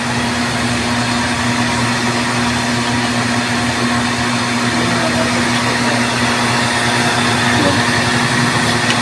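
An electric water pump motor, repaired after an earlier fault where no power reached it, runs with a steady, loud, continuous hum and whir that holds unchanged throughout, with no talking.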